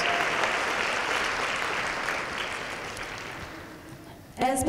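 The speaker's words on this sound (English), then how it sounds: "Please give a round of applause for our middle school specialty award winners." An audience claps for middle school specialty award winners at a science and engineering awards ceremony, dense applause that gradually thins and fades before a voice begins speaking at the end.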